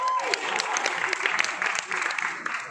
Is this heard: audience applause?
yes